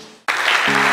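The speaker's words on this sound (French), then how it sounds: "C'est sous un tonnerre d'applaudissements des 208 adhérents qu'après 5 ans de mandature, Jérôme Isotier quitte la présidence de l'ADIR" Sudden burst of dense clapping from 208 members of the ADIR association at a general assembly, breaking in loud and filling the room after a brief quiet.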